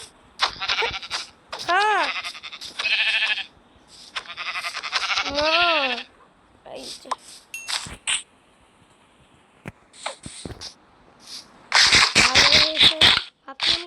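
Repeated goat bleats from a video game come in several short bursts, loud and close, with clicks and gaps of quiet between them.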